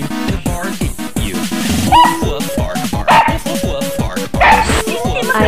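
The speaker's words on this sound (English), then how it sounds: "I am now going to bark at you." A person barks and yips like a dog in quick repeated bursts, with whiny, whimpering tones, close and loud; no real dog is heard.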